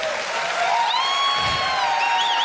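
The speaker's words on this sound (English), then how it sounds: "Stop clapping." Dense applause from a large press conference audience at a video game showcase, a steady broadband wash of clapping with faint whistles and cheers threaded through, no gaps for the full stretch.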